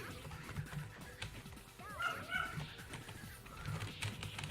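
A dog gives faint, distant yips and whimpering barks in scattered short bursts, heard low beneath a quiet room background.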